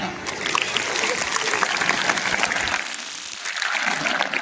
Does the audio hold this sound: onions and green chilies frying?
no